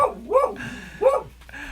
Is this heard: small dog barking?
yes